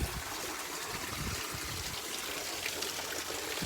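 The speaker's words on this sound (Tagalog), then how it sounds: "May running water." Seawater runs steadily into an open-air onsen hot spring bath, a continuous soft trickling and pouring wash of water heard close and alone, with no talk.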